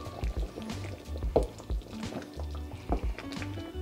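Cheesy pork menudo is stirred in a pan, giving wet squelching and sloshing scrapes in short uneven strokes, close and moderately loud, with no talking.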